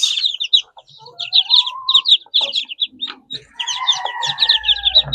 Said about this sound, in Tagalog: Yan yung ating mga 22 pieces na ducklings.